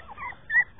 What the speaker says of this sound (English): These are sleepy puppies.